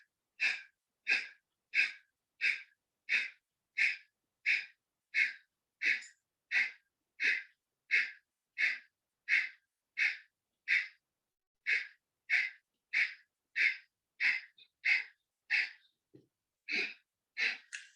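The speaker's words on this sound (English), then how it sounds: "no, that's just my breathing." Rhythmic yoga breathing exercise, about two dozen sharp, forceful breaths repeated at a steady quick pace, close and alone with no talk, ending in a slightly irregular pair.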